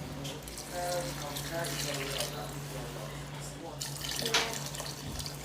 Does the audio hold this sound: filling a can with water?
yes